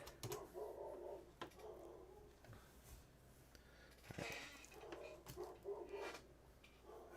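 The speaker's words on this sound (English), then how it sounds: "What are they barking at out there?" Dogs barking outdoors, heard faintly from inside in scattered, irregular bursts over a quiet room with light background noise.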